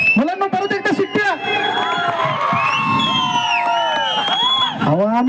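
A lively audience at a Marathi community stage event cheers, whoops and whistles nonstop, with shrill high whistles streaking over dense crowd noise and children's shouting, loud and close throughout.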